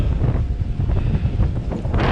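Strong wind buffets the microphone beside the Loire, roaring steadily low and loud throughout with gusting surges, along with choppy waves on the river.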